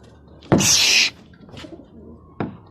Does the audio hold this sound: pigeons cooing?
yes